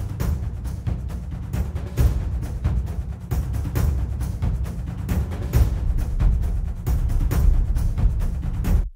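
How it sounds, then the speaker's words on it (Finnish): Heavy, unprocessed drum groove with thumping kick and sharp snare hits in a steady rhythm, dense and punchy, played alone throughout. "Tämähän kuulostaa siis oikein tämmöiseltä jykevältä rumpukompilta."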